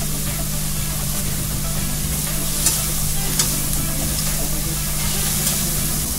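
Drumstick flowers with crushed small onions and whole spices sizzle steadily in a hot pan for soup, with a continuous loud frying hiss and occasional scrapes and clicks from stirring.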